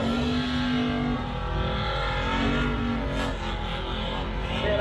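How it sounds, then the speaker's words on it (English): A 1930 Ford Model A hot rod tears down a drag strip, its engine roaring loud and continuous with a rising whine, plus a brief bump in the middle. "It's a 1930 Model A. Oh man, he's driving that thing like it owes him money."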